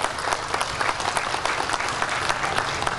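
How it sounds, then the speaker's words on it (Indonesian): Audience applause at an award ceremony where unity medals are presented, a dense steady clapping from a crowd filling the whole stretch without pause. "Tepuklah."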